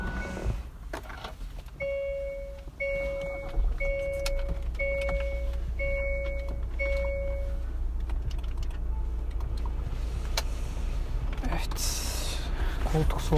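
Inside a Hyundai Tucson Elite Plus at the start of a test drive, a low steady cabin hum runs under a warning chime that beeps six times at even intervals, with faint clicks and rustles.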